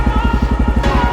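A gen2 KLR650 single-cylinder motorcycle with a LEXX exhaust and no silencer tip idles close by, giving a steady, loud, rapid thumping pulse with no talk.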